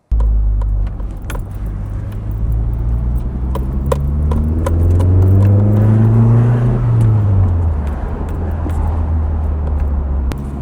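A Nissan 240SX in mint condition driving on a road, its engine note rising steadily and swelling midway as it accelerates, with a steady interior hum and some light clicks and rattles throughout.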